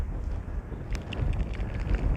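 Wind blowing across a hilltop on Dundeugh Hill, a steady low rumble buffeting the microphone throughout, with gusts swelling and easing and no talk.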